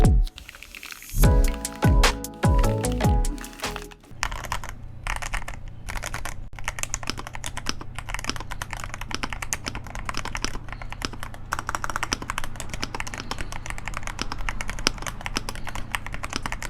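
Rapid clacking keystrokes on a KBD67 Lite mechanical keyboard fitted with the tape mod, producing a deep, muffled thock; continuous fast typing runs close and steady after a few opening clicks, with a low background hum underneath.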